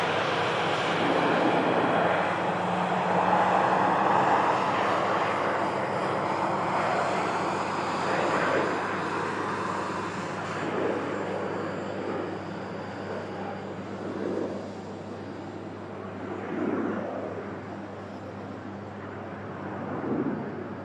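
A VistaJet Bombardier business jet takes off from a municipal airport near Milan and climbs steeply away, its engine roar loud at first and then slowly fading into the distance.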